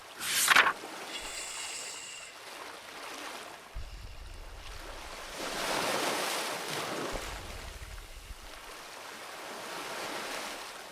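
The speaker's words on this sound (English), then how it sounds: "The waves move towards the shore, in and out, in, out, in, out." Gentle ocean waves roll in and wash onto the shore in a soft, steady surge and retreat, with a couple of broad swells rising and falling and a brief sharp knock near the start.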